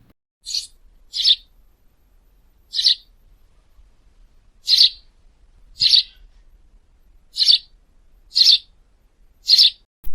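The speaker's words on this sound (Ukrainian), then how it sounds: "Давайте з вами послухаємо, як співає горобець." A house sparrow gives short, bright chirps in pairs and singles, repeated about eight times at a steady pace against a quiet background.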